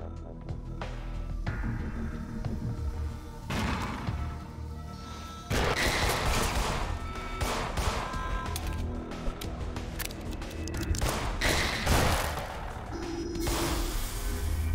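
Gunfire in the horror video game In Sound Mind, set in a shopping mall: repeated loud, booming shots and crashes in bursts over a dense, noisy mix of game effects and music.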